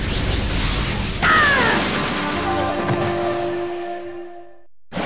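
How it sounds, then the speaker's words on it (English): A burst of fire-style jutsu attack from a Naruto Ultimate Ninja fight between Curse Mark Sasuke and Nine Tailed Naruto: a sharp crashing boom followed by a sustained whooshing, ringing flare that fades out over several seconds. "Fire style Phoenix Flower Jutsu!"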